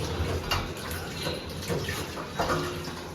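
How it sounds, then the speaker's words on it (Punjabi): Vegetables for pickle are washed by hand in water, with soft sloshing and splashing in uneven bursts, quiet and close, with no talking. "ਇਹਨਾਂ ਨੂੰ ਅਸੀਂ ਸਾਰੀ ਚੰਗੀ ਤਰ੍ਹਾਂ ਪਹਿਲਾਂ ਮਿੱਟੀ ਵਗੈਰਾ ਦੀ ਧੋ ਲੈਂਦੇ ਆ"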